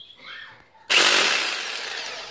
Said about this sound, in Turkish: Hemen. Deleceğiz.